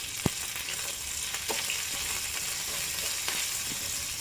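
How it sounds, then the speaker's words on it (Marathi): Cumin, mustard seeds and curry leaves hit hot oil in a small tempering, giving a steady close sizzle with a few sharp pops and crackles scattered through, no talking. "तेल गरम झाले, त्याच्यामध्ये जिरे, मोहरी आणि कढीपत्त्याची फोडणी टाकणार आहे"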